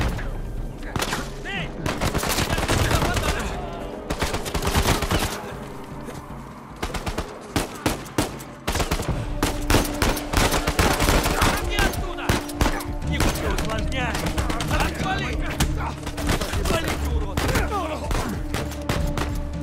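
Shootout gunfire in the video game Uncharted 4: loud, dense bursts of automatic and single shots rattle almost without pause, with a short lull partway through and booming impacts mixed in.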